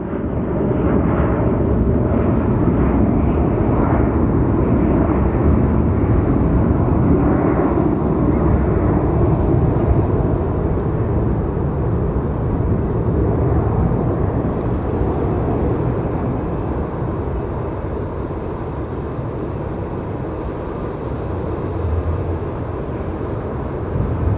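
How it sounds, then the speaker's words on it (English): Airbus A321neo airliner with newer engines at Phoenix Sky Harbor airport, a loud, broad roaring rush that holds steady for a long stretch and eases slightly toward the end, with no talk. "That is an A321neo, I believe."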